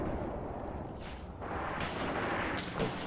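Steady rumble of gunfire and artillery in a World War II Eastern Front battle game set in 1943, a dense continuous barrage with brief louder bursts near the end.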